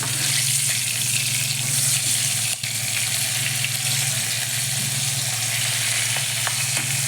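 Hot oil spits and crackles as a tempering of green chilli, garlic, cumin and ginger sizzles for dhokla, a dense, continuous close-up sizzle with no letup throughout.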